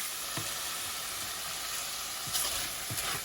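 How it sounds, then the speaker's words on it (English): Lamb meat browning in olive oil in a hot pan gives a dense, even sizzle throughout, with a few soft scraping stirs breaking through now and then, close and continuous, no voices. "And brown the meat."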